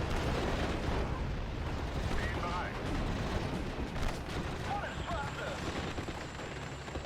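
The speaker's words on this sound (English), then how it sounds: "Gonna have to change the mortar fire there a little, I think." Mortar artillery fire in the WWII strategy game Steel Division: Normandy 44, a steady wash of booming impacts and rumbling battlefield noise that stays loud and dense throughout.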